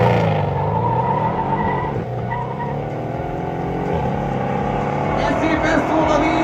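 A Mercedes CLS 63 AMG 5.5 V8 biturbo engine roars loudly and steadily with rising revs during a quarter-mile drag race, accompanied by some tire noise and people talking over it.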